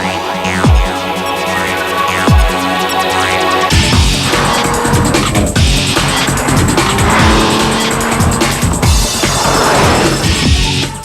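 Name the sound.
new Porsche 911 version 997 driving, tires squealing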